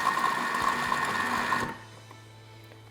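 An electric mixer whips cream for a salted caramel cheesecake, giving a loud, steady motor whir up close that cuts off abruptly partway through, leaving only quiet room noise.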